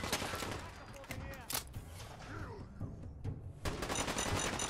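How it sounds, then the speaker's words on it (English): Rapid bursts of gunfire strike the player from a big gun wielded by a large enemy in Fallout 4, dense and loud, mixed with game effects and a voice talking over the shooting. "And I'm taking bullets in my face"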